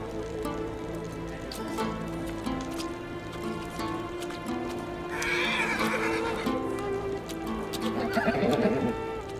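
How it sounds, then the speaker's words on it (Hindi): A mare neighs and whinnies while hooves clip-clop nearby, with a louder burst of neighing midway and another toward the end over steady background sound. "ये घोड़ी किसकी है?"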